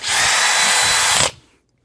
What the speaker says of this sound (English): just drill all the way through